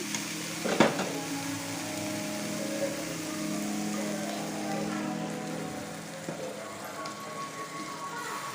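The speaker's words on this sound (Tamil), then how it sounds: "அடுத்தது தண்ணி ஆட் பண்ணிக்கலாங்க" Water pours into a hot pan of frying masala for egg gravy, a steady sizzling hiss that stays loud and even, with a brief clatter near the start.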